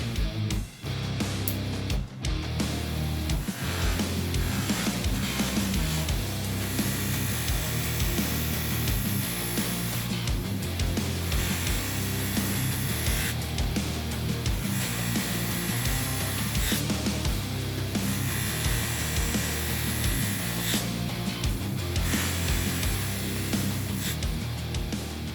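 A buffer wheel charged with green compound polishes rust off a screwdriver, giving a loud, steady motor whir and dense grinding hiss that runs continuously up close with no talking.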